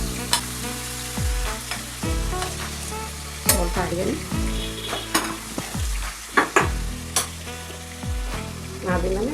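Potato pieces fry in a pan with salt for vegetable pulao, giving a continuous close sizzle broken by frequent scraping stirs and clinks of a utensil against the pan.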